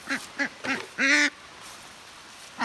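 A duck quacks several times in short, close bursts, with one longer, louder honking quack in the middle and quiet pauses between calls.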